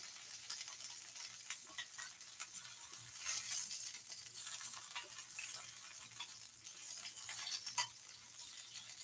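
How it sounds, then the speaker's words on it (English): Zucchini frying in a pan, liquids popping and splattering in a steady crackling sizzle with sharp spits throughout, close and fairly quiet, no voices. "Ooh, that thing is splattering. That's the liquids in the zucchini splattering."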